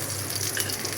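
A paratha frying in oil in a pan, a steady close sizzle that stays even and continuous without pause.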